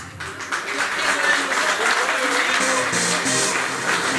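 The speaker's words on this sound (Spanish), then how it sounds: "Fuerte, fuerte el aplauso." A crowd applauds at a fishing club awards ceremony in Minas, Lavalleja, Uruguay, with loud, sustained clapping and some cheering voices mixed in throughout.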